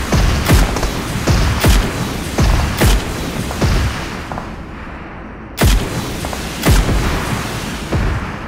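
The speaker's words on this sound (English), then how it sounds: "Firing sound detected." Repeated heavy firing shots in the Payload video game, a regular series of loud booming reports about one every second, with a short pause midway and no talking.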